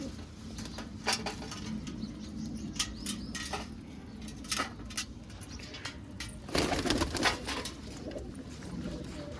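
Pigeons cooing softly in a loft, faint low coos under scattered sharp clinks and taps, with no talking.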